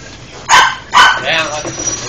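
A dog gives two sharp, close barks about half a second apart, with voices murmuring around them.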